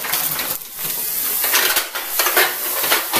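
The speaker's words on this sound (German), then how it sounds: "Die Schalotten und den Knoblauch ganz leicht anbraten und dann mit der Brühe dann ablöschen." Shallots and garlic sautéing in a hot pan for goulash, a loud, continuous sizzling hiss with clinks and scrapes of the pan, and no voices.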